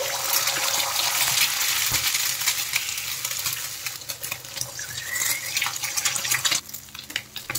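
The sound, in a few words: eggs frying in refined oil in a wok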